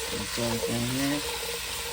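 Vegetables seasoned with garlic powder and salt sizzle steadily in a pan as they are stirred, a continuous close frying hiss with a brief voice over it.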